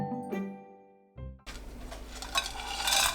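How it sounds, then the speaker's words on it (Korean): Shredded dried filefish stir-fried in a pan over medium heat, starting after a short utensil clink with a soft continuous sizzle and faint scraping that grows slightly louder toward the end. "팬에 쥐포채 넣고 중불로 1분 30초 볶습니다."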